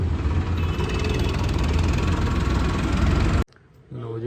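A Mahindra 555 tractor engine rumbles loudly and steadily at idle for several seconds, then cuts off abruptly, leaving brief quiet before a low hum returns.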